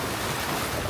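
An Oyster 565 yacht motors along the North Sicilian coast on a flat, calm sea, giving a dense, steady wash of water and hull noise with wind buffeting, loud and continuous.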